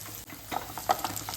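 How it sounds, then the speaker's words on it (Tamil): Small onions and spices sauté in a pan for a lentil-ball kuzhambu, with a brief, soft sizzle and a few stirring scrapes close by. "நல்லா வதங்கிட்டு பாருங்க"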